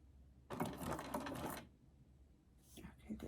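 A sewing machine runs a short burst of decorative zigzag stitching, a quiet, close rapid mechanical chatter lasting about a second, then a faint second start.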